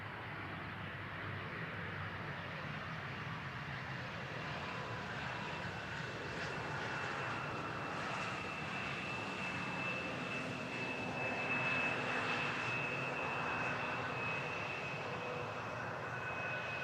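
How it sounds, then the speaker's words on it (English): A regional Embraer jet rolls along runway 18R at Amsterdam Schiphol after landing and turns off at the first exit. Its engines make a steady, moderately distant roar with a faint high whine, holding constant throughout. "The Embraer leaving the runway over at the first exit."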